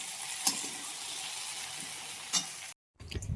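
A flatbread is turned on a hot griddle with a steady sizzle and two short scraping clinks. The frying stops abruptly near the end, and a low, muffled rumble follows.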